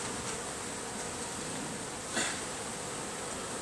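Honey bees swarm around an opened hive full of capped honey comb, a continuous close buzz with one bee passing loudly near the ear.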